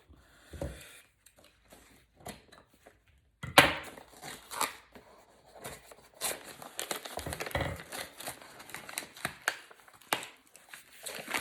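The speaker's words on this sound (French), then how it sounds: "Oh, je déchire tout." Paper wrapping being torn and crumpled by hand, close and fairly quiet, sparse crinkles at first, then a sharp rip followed by a run of irregular rustling and crackling.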